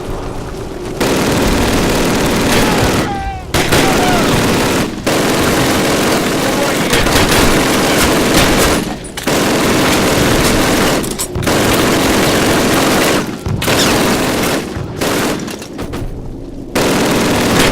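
Rapid automatic gunfire and loud gunshots from the Call of Duty 1 video game, nearly continuous bursts of machine-gun fire broken by brief pauses, dense and close throughout.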